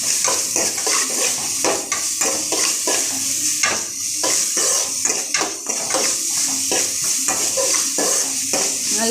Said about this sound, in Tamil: நல்லா ஆனியன், பட்டை எல்லாம் போட்டு நல்லா வதக்கும்.